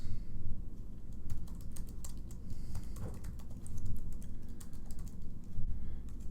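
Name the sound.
typing on a computer keyboard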